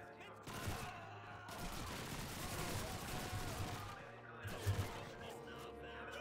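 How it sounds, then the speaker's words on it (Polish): Gunfire in the World War II shooter Call of Duty 2, a Stalingrad battle: bursts of rifle and automatic fire crackle in a dense, continuous fusillade with louder shots near the end, while someone talks over it. "No i nasi coś tam strzelają."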